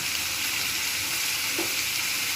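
Vegetables with green peas and capsicum fry in a wok for a vegetable paneer dish, giving a steady, close hiss of sizzling oil with faint stirring scrapes throughout and no talk.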